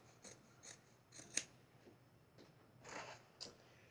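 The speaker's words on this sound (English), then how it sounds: "I'm going to cut this piece off here" Scissors snip through a piece of fabric while a charm square bag is being sewn, giving several crisp, close cuts spaced irregularly, with one sharper snip in the middle.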